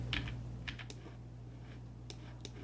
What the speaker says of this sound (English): You also want to hit R on the keyboard to bring up the rotation settings.